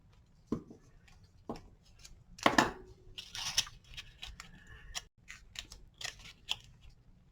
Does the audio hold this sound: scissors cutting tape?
yes